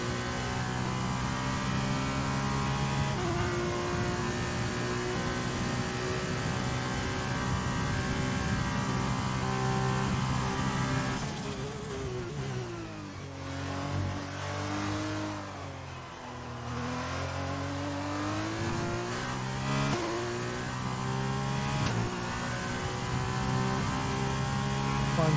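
An F1 car from the racing game F1 2020 lapping a circuit, its high engine whine held steady and loud, then dropping and swooping through downshifts around a corner before climbing back to full revs, with no talk.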